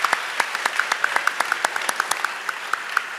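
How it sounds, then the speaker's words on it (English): A small group claps for Daniel at a district town hall meeting, with sparse, distinct handclaps in an uneven steady rhythm, close and clear, over a faint background murmur. "Community, please give Daniel a round of applause."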